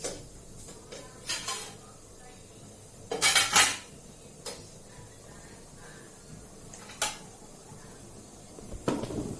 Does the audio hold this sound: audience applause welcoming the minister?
no